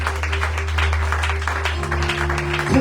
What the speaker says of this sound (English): Remember to clap hands.